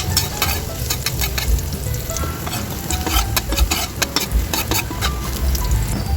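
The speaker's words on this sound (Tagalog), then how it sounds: "dito naman sa kabila ay mag-start na tayong magigisa para sa ating sauce" Garlic sizzles loudly in hot oil in a pan for a spaghetti sauce, a dense continuous crackle broken by frequent sharp spatter pops and stirring clatter, close-up with no voices.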